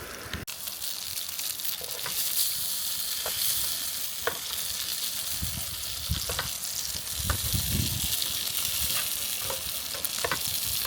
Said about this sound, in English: Let's get some sausages on.